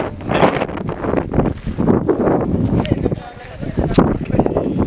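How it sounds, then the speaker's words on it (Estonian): Strong wind buffets the microphone outdoors on a trip in Latvia, a loud continuous roar with gusty surges, while people talk over it throughout. "Tuul puhutab."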